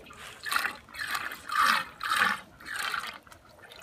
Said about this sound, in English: so the water comes in to the last pipe there and drains through here.